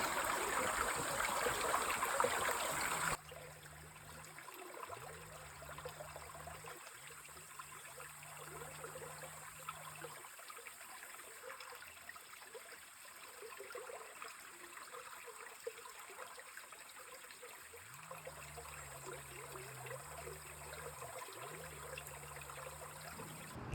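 A mountain stream rushes beneath a bridge near the village of Sopit and its waterfall, a steady broad hiss of flowing water heard from close by, with low engine hums passing at times.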